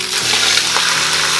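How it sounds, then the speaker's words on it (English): Pork sears in a hot Instant Pot with a bright, steady sizzle and faint crackles, continuous and close, no voices. "There, so it sears on the other side."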